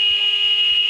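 A loud, sustained electronic buzzer sounds the half-time whistle at a schools netball league match, a steady piercing tone held throughout with no speech.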